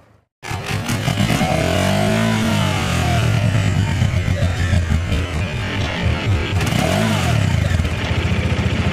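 Off-road motorcycles at a bike training session in New Town, Kolkata, rev and accelerate nearby with loud, rising and falling engine roars and some clatter, running continuously for about nine seconds.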